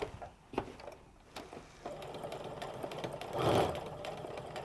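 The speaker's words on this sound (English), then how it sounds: "I want to sew over my stitching line a little bit and then just backstitch just to secure those threads" Home sewing machine stitching around a rectangle of fabric for a crossbody sling bag, a quiet mechanical whir with brief clicks and pauses, swelling into a faster, louder run of stitches near the end.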